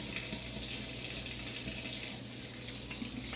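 Hot water runs steadily from a tap into a sink with a constant broadband rush and splash, close and even throughout, no voices.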